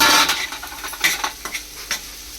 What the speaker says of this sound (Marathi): चांगला परतून घ्यायचा। चांगला थोडा नरम झाला पाहिजे टॅमॅटो